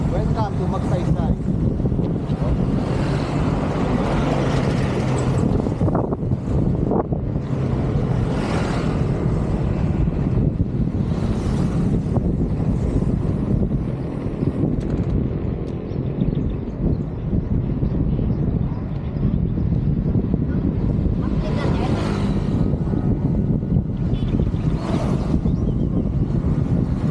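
Strong headwind buffets the microphone during a solo bicycle ride on the Mindoro loop, a loud, continuous low roar with surging gusts throughout and voices faintly mixed in.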